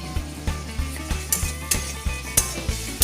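A paste of onion, garlic, ginger and chilli with salt is stir-fried in a pan over fried potatoes. A low sizzle runs underneath as a spoon knocks against the pan in a steady rhythm, about three strokes a second.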